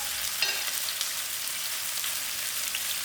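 Onions frying in a pan for moong dal curry, an even, close hissing sizzle that patters like light rain, with a couple of brief pops near the start.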